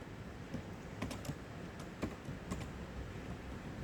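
Typing on a computer keyboard, a few quiet, close keystrokes spaced irregularly over a steady background hiss.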